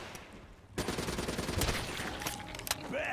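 Automatic weapon fire in Black Ops 3 Zombies, a quiet lull abruptly giving way to a sustained, loud burst of rapid gunshots that rattles on for several seconds, with a few sharper cracks near the end.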